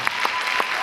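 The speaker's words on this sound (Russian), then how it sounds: "давайте похлопаем Леониду" An audience in a Yakutsk cup competition hall applauds Leonid with a short burst of dense clapping.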